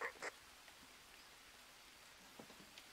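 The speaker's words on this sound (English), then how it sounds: "Let's just stand here out the rain first" Steady, faint rain in the jungle survival game Green Hell hisses evenly throughout, with a couple of brief louder taps near the start and scattered soft drops later.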